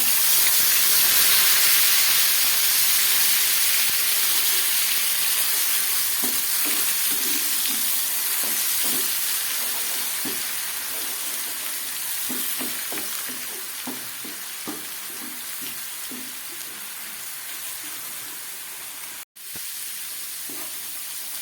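Onion paste frying in oil in a pan, a continuous bright hiss and sizzle that gradually quietens, with scattered stirring clicks and scrapes through the middle stretch.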